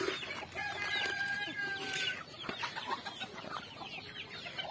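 A rooster, an older breeder male kept on a Filipino farm, clucks a few times at a moderate distance among other farm birds and faint background noise.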